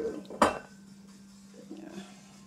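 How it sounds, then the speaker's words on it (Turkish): Dishes clink once, sharp and close, while coffee is made with cold water, followed by a faint low hum and quiet kitchen movement. "şöyle soğuk suyla güzel güzel kahve hazırlayayım kendime"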